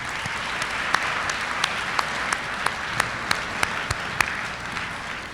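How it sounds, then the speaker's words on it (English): Applause at a school all-school assembly, a broad steady wash of clapping from a large crowd with a few sharper individual claps standing out at irregular moments. "join me in giving all those who participated in one means or another a round of applause"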